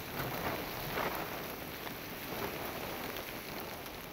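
Heavy monsoon rain in Gadchiroli pours down steadily, a dense broadband hiss of drops striking surfaces that holds even and unbroken throughout, with no voices.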